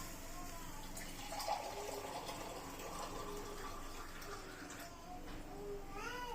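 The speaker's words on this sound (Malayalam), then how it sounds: "ഇങ്ങനെ വെള്ളം ഒഴിച്ചു കൊടുക്കണം." A steady stream of water runs into roasted semolina for rava upma, a low, continuous filling sound with faint voices underneath.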